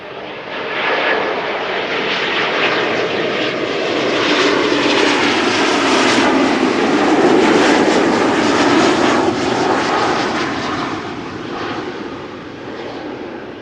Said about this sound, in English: is another Embraer 190 KLM arrival from London City